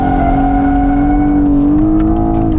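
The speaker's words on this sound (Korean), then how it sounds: "그래도 이 차는 얼마든지 엑셀 컨트롤을 통해서 꼬리의 미끄러짐 양을 조절할 수가 있게 되는 거죠." BMW 840 Gran Coupe xDrive, a heavy all-wheel-drive coupe, sliding its tail under throttle with a loud sustained engine drone that rises steadily, and tire squeal laid over it, with no talk.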